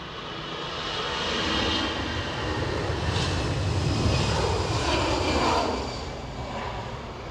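An Iberia airliner departs Edinburgh Airport bound for Madrid, its engines a broad, steady roar that swells through the middle and eases slightly toward the end, heard from a distance outdoors with no talking.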